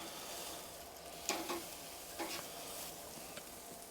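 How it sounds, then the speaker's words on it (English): A Snake River Farms wagyu New York strip steak searing hot and fast in a pan, a continuous faint sizzle with a few brief bursts as the meat is moved and turned. "So anyway, let's get this steak on. So we're going hot and fast."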